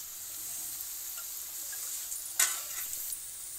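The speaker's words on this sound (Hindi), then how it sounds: "तो देखिए फ्रेंड्स, प्याज की भजिया हमारी पक रही है।" Onion bhajis sizzle steadily in hot oil, a soft, even bubbling hiss with one brief louder crackle partway through and no talking.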